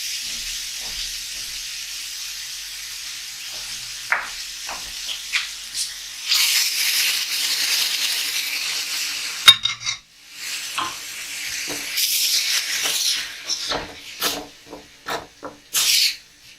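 Blended tomato juice is poured into a pan of frying onions and garlic, giving a soft hiss that swells into bursts of steamy sizzling, broken by stirring clinks and scrapes against the pan.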